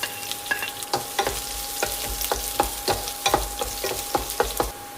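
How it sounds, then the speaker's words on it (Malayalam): Ginger and garlic frying in hot coconut oil with popped mustard seeds, giving a constant close sizzle with sharp crackles and spatters scattered throughout. "കടുക് പൊട്ടിയതിലേക്ക് ഇഞ്ചിയും വെളുത്തുള്ളിയും ചേർക്കാം."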